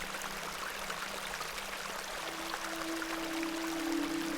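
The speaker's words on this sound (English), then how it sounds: "This is a lovely little beck." A small beck flows in the video game The Excavation of Hob's Barrow, making a continuous soft rush of trickling water at moderate level, with no voices present.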